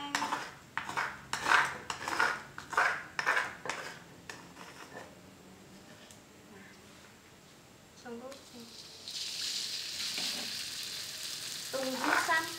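Aromatics being stir-fried in hot oil in a home kitchen pan, with rhythmic scraping and clinking of a spatula against the pan over a soft sizzle, then a steadier hiss toward the end.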